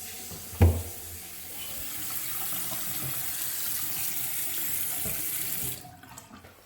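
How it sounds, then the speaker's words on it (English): Water runs from a sink faucet just after a drip repair: a thump, then a steady rushing stream that holds evenly for several seconds before cutting off near the end. "turn your water back on."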